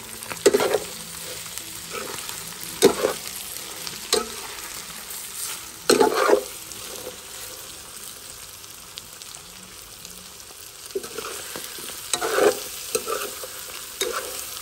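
Onions fry in a pot for andouille rougail, a steady low sizzle broken by repeated spoon scrapes and stirring clatters, close and fairly quiet with no talk.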